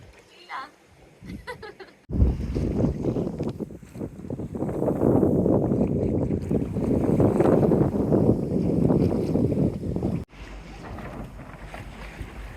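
A sailboat reaches on a beam wind of about ten knots near Vancouver Island, producing a steady, loud rush of wind and water noise that rises sharply and holds before dropping away, with no talk over it.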